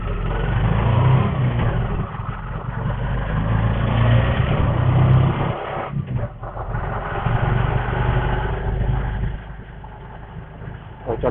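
Auto rickshaw engine chugging along through heavy Delhi traffic, a steady loud rumble with road and traffic noise around it, briefly dipping midway and easing off near the end.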